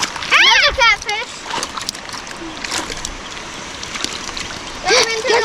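Freshly caught catfish flop and splash in water close by, with irregular sloshing and splattering as people talk excitedly over it.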